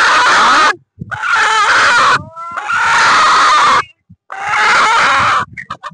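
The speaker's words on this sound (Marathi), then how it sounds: "अहो ते कोंबडं कोण एवढं वरडं करतंय?" A rooster crows loudly and close by, several long strained calls in a row separated by short pauses.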